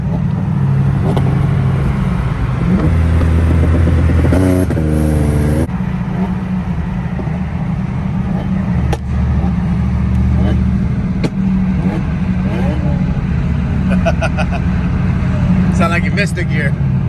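A Nissan 350Z engine revs hard and then eases off, close and loud, with upshift-like drops in pitch and tire noise underneath, while people talk and shout over it.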